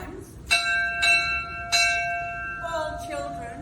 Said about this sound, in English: When the bell rings 3 times,